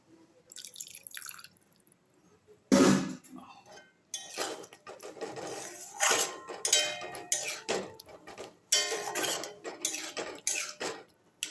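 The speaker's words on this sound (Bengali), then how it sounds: "জল দিয়ে দেবো।" Water is poured into a cooking pot while mukhi kochu (taro) simmers for a vegetarian dish, giving close splashes and drips with clinks of a metal pot and utensils in intermittent bursts.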